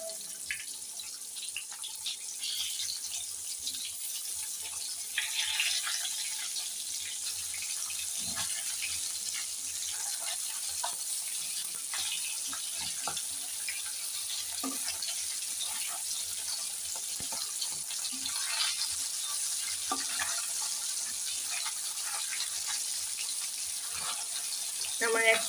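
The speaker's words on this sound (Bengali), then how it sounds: "আমি সব মাছগুলো দিয়ে এখন উল্টে পাল্টে ভালো করে ভেজে নিব" Fish sizzling in hot oil in a pan, a steady close crackling hiss with scattered pops lasting throughout, no voices over it.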